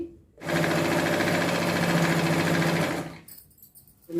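Sewing machine stitching semi-stitched ghagra fabric, a steady loud whirring run of about two and a half seconds that starts and stops abruptly, with quiet handling afterward.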